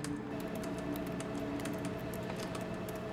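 Rapid, light clicks of typing on a computer keyboard patter irregularly against a steady background hum, quiet and close.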